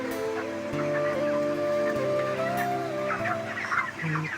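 Forty-day-old farm chickens cluck and chatter together in a dense, overlapping chorus, with sustained calls rising and falling close by and no talk.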